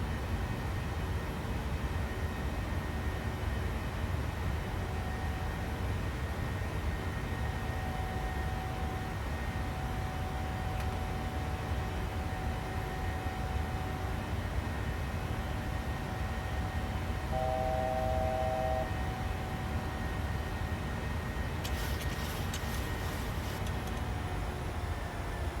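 Steady, loud broadband jet engine roar from a Boeing 737NG in the PMDG flight simulator during a go-around climb, constant throughout with a brief faint tonal chime partway and no talking.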